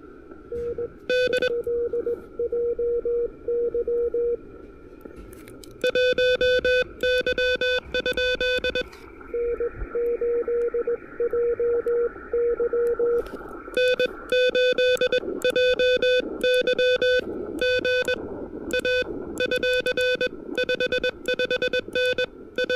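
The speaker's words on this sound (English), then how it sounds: "Doesn't the audio sound great on this radio?" Amateur radio receiver audio during an outdoor Parks on the Air operation at Mount Pisgah, with steady tones and rapid beeping bursts over a hissy, distorted background, continuing for about twenty seconds.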